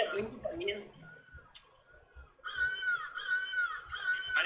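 Crow cawing in the video game Secret Neighbor, a run of several harsh, nasal caws in quick succession, fairly close, following a stretch of speech.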